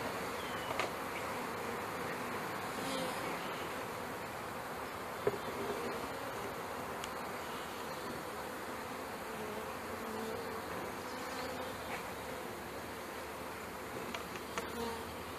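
Honey bees buzz in a soft, steady drone while package bees are installed, a dense swarm hum that stays faint and even with a few slight bumps and no talking.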